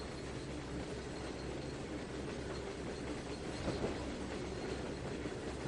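A one-car train rolls by in the Trainz 2019 railroad game, a steady wash of rumbling wheel and rail noise that holds even and fairly faint throughout, with no speech.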